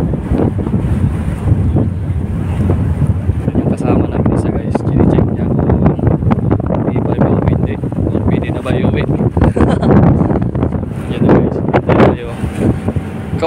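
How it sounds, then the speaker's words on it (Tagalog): A pilot boat approaches a ship at sea, heard as steady engine drone and rushing water and waves, heavily buffeted by wind noise, with voices talking over it. "Pilot boat approaching."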